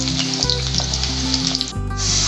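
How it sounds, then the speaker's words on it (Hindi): Nine or ten garlic cloves frying in hot oil in a wok, a loud, steady close sizzle with brief crackles and a short dip before the hiss returns. "अब हम इसमें डालेंगे 9-10 लहसुन की कलियां, थोड़ा सा हम इसे गोल्डन होने देंगे।"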